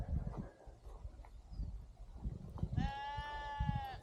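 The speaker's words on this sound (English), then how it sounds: "Mind the sheep." Sheep on a Lake District hillside: one loud, close bleat rises near the end after a stretch of shuffling, footsteps and faint outdoor noise.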